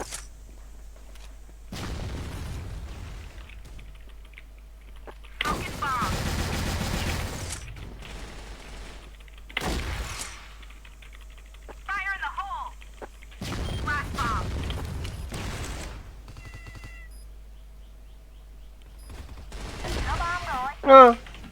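Bursts of rapid gunfire and explosions from a shooter video game, several loud volleys separated by quieter stretches, with occasional tonal game sounds between them.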